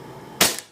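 A single sharp gunshot, fired while testing replica ESS Crossbow ballistic goggles, a short loud crack that quickly decays after a quiet lead-in.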